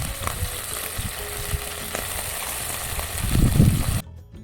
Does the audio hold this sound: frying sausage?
yes